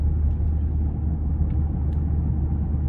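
A 2017 Maserati Ghibli SQ4 engine hums quietly from inside the cabin, a steady low rumble with no talking.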